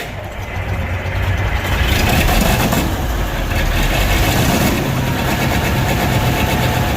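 A straight-piped 860 engine rumbles loudly and steadily close by, the roar sustained throughout with slight swells in intensity, no talk over it.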